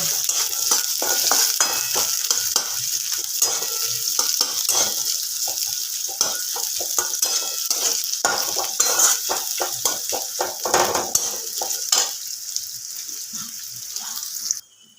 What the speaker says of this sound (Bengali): পেঁয়াজ কুচি ভালো করে একটু নাড়াচাড়া করে নেব